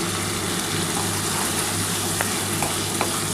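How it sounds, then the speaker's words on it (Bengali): Ivy gourd with turmeric stir-fried in a pan with onion, garlic and mustard, a steady close sizzle and fry hiss running throughout, with a few light clicks of stirring. "এবার এটা কিন্তু একটুখানি ভালো করে নাড়াচাড়া করতে হবে।"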